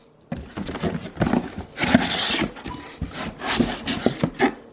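Packaging for Evolutions Z23 brake pads is torn and rubbed open up close, giving dry scraping, crinkling and rasping bursts in quick irregular bursts with no talk.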